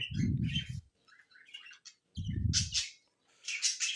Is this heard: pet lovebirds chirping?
yes